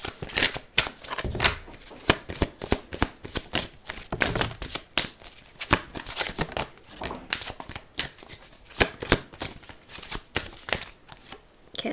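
Oracle cards are shuffled by hand for a tarot reading: a steady run of crisp, fast riffling flutters and soft slaps, close and fairly loud, continuing without a break and with no speech.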